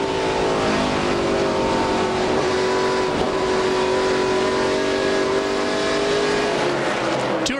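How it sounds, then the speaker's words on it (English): A 2005 ARCA RE/MAX Series race car at Gateway International Raceway roars loudly and continuously, its engine pitch wavering as the driver lifts and gets back on the throttle. "you can hear Frank on and off the gas there as he's getting all that horsepower to the ground"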